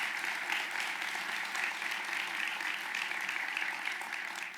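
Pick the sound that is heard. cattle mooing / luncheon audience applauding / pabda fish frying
luncheon audience applauding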